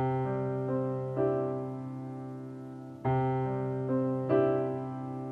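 Pop piano pattern played with the sustain pedal held, notes and chords blurring together in a soft, ringing wash with new attacks every second or so, close and alone.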